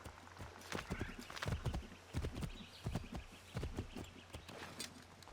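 Horse in the Assassin's Creed III video game, rapid clip-clop hoofbeats in an uneven rhythm with a whinny mixed in, close and fairly loud.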